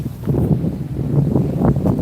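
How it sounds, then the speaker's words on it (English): Wind picks up outdoors by the water on a trout fishing trip, gusting and buffeting the microphone in low, uneven rumbling bursts up close. "The wind's starting, Will."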